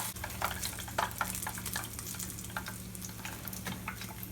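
Korean crispy chicken wings fry in hot oil with a steady, fairly quiet sizzle and scattered crackles and pops heard close up, with no one speaking.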